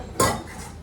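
A single quick metallic scrape and clink of a spoon against a pot while stirring carrot halwa, short and close.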